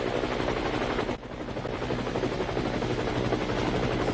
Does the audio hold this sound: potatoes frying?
no